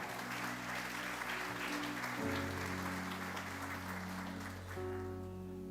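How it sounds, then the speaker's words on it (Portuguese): A church congregation at a Sunday service applauds steadily throughout, with sustained organ or keyboard chords underneath. "Aplauda o Senhor e receba o apóstolo."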